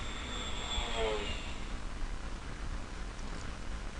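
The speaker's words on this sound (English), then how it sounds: "We'll also have to protect this fighter bomber, so let us fly here." A fighter bomber flies over in the World War II strategy game Panzer General, a faint synthetic engine drone with a whooshing pass over a steady background hum.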